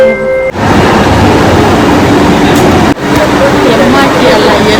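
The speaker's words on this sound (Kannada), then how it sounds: "ಇದು ಲಾಸ್ಟ್ ಮೆಟ್ರೋ ಆಯಿತು." An LRT metro train in Kuala Lumpur rumbles loudly and steadily from close by, a broad continuous roar that briefly dips twice before carrying on.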